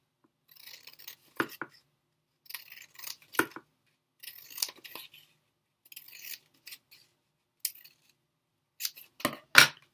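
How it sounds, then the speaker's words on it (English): Scissors snip along lines on a folded paper fish cutout in short bursts of crisp cuts, with pauses between, close and fairly quiet. "Now I'm keeping it folded, and I'm going to cut just on those lines."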